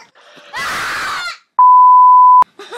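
A person lets out a loud, strained scream lasting under a second. A steady electronic beep tone follows, then a brief voice at the end.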